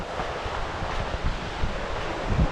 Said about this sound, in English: you can hear that running water like that